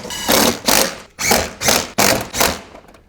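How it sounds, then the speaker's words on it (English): Screws are driven in one after another while fitting a CSF dual engine oil cooler kit to an FL5 car, giving six short whirring bursts in an uneven rhythm, close and fairly loud with no talk. "Now we just put our screws in, that's it."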